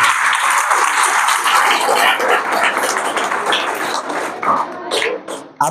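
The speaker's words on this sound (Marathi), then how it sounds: "ज्यांनी भाषणं केली नाहीत त्यांच्यासाठी एकदा टाळ्या वाजवा." A crowd of students claps at an indoor celebration, a dense, loud patter of hands that thins and fades toward the end before a final burst.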